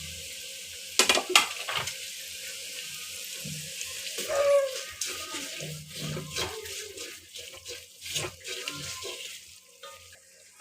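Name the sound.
dried red chilies and mustard seeds frying in oil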